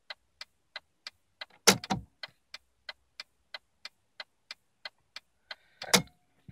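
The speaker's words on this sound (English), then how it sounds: "So success, it worked, clicking away." Replacement indicator relay in a 2000 VW Polo 6N2 ticks in an even, regular rhythm of sharp clicks, fairly loud and close, in a quiet car. A couple of louder clunks break in around the middle and near the end.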